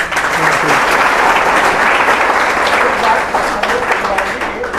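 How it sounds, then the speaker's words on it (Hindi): Steady, loud audience applause at a seminar, dense clapping from a crowd filling the whole stretch without pause. "तो जाते हुए भी एक बार तालियां हो"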